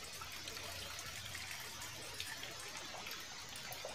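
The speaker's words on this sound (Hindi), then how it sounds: "क्लीन वाटर आ रहा है और पानी का प्रेशर भी अच्छा है" Clean water runs from the outlet of an Aquaguard Maxima UV water purifier after servicing. It makes a soft, steady trickle and splash, quiet and continuous with no talking.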